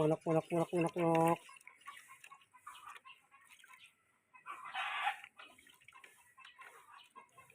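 Chickens get a bath during hot weather: a rooster crows loudly at the start, then faint clucks, water splashes and a short burst of spray follow, with quiet talk in the background.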